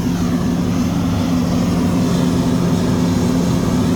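An engine-driven air drill roars steadily with a powerful rush of blowing air from a well-drilling rig, a constant, close, droning noise without pauses.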